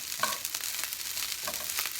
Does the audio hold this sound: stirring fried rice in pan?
yes